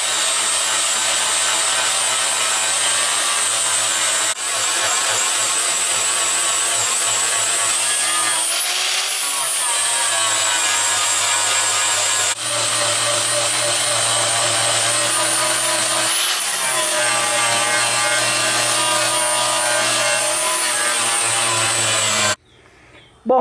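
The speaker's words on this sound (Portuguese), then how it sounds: "eu passei a lixadeira nos limites aqui onde a massa estava se destacando" A power sander grinds continuously over body filler on a 1975 Volkswagen Beetle, loud and close, with brief shifts in pitch as pressure changes, then stops at the end.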